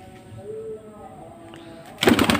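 Two pigeons come down a staircase to drink water and give a soft, low cooing, faint and close, before a sudden louder burst of noise cuts in at the end.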